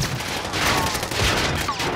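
Dense, distant-sounding gunfire aimed at a vehicle in Call of Duty: Modern Warfare, a continuous rumbling barrage with a few sharper cracks.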